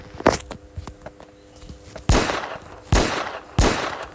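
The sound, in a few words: gunshots in a video game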